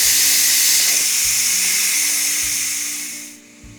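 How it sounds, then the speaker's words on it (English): A Ninja Foodi pressure cooker, full with chicken pasta, vents steam through its release valve in a loud, steady hiss that tapers off near the end; soft low thumps sit underneath. "flip this valve to vent and let the rest of the pressure out"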